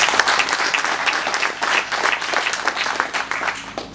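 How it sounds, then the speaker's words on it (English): Audience applause at an agricultural mobile lab launch event, a loud, dense burst of many hands clapping together that stays strong for several seconds. "let's give them an applause."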